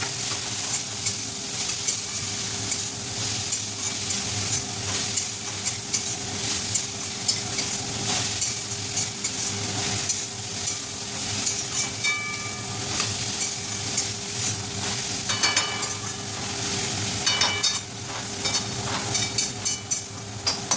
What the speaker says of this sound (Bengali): টমেটোগুলো দিয়েও কিছুক্ষণ নাড়াচাড়া করতে হবে।